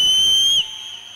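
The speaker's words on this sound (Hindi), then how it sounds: "जितने यीशु के लिए सीटी बजा रहे हैं आज" A single sharp, high whistle blown at a worship service holds for about half a second, then drops to a quieter sustained tone.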